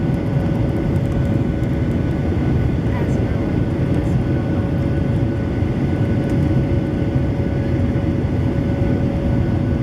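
Airliner departing eastbound from Luis Muñoz Marín International Airport in San Juan, Puerto Rico, heard from inside the cabin as a loud, steady engine roar with constant rumble and a sustained whine, unbroken throughout.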